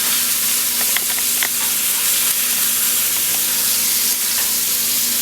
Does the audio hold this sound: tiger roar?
no